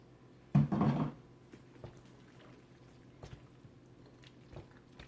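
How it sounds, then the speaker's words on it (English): Hot sauce poured into a spinach dip, heard as one short wet splash and squish that dies away into quiet kitchen background with a few faint taps. "Yes, I'm adding hot sauce."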